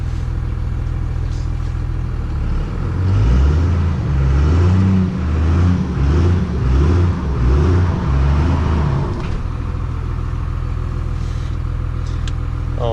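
A Cummins 12-valve diesel in a stock dually truck with a five-speed, stuck in mud, idles with a steady low rumble, then revs hard in rhythmic pulses for several seconds before dropping back to idle, loud and close.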